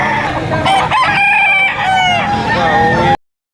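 A rooster crows loudly and close by at a poultry market in Padre Garcia, Batangas, its long, wavering call filling the air until it cuts off abruptly into silence.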